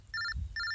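Phone ringing with an incoming call, two short electronic ring tones separated by a brief gap, faint and heard alone.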